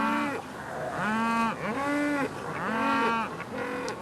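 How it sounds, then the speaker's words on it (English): Cattle low repeatedly aboard a sailing ship running short of water, several long drawn-out moos rising and falling in close succession, loud and near, with no talk over them. "These animals are thirsty again, sir."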